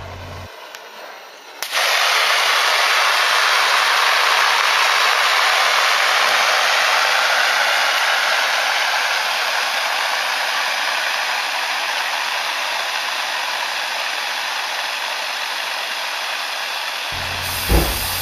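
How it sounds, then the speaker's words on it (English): Powder fire extinguisher discharging into two polythene bags, a loud, close, continuous rushing hiss that starts abruptly and holds steady for about fifteen seconds before cutting off. "the powder extinguisher will be discharged into 2 polythene bags"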